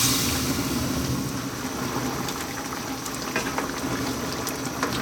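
Lamb and potato curry with tomatoes and added water simmers in a pan, a soft continuous bubbling and gentle sizzle with scattered small pops, fairly quiet and heard alone.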